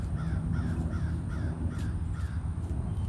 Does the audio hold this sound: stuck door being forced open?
no